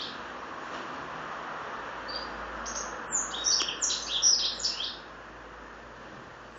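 A small bird chirps in a quick burst of high, bright tweets midway through, clear over a steady hiss of background noise, then falls quiet.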